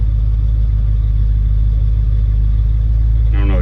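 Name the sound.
1989 Dodge service truck engine sputtering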